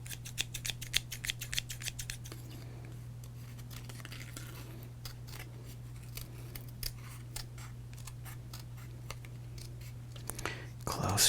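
Scissors snipping through a baseball card in close, detailed cuts, producing a quick series of crisp clicks and slices near the microphone over a quiet steady hum, with a louder rustle at the end.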